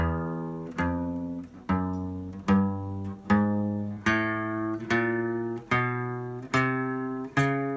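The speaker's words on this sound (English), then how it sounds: "you've just played the chromatic scale" Guitar notes step upward one after another in a chromatic scale in a steady rhythm, played legato with no gaps, clear and close.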